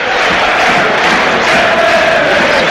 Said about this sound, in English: the Derby crowd try to will their team over the line this evening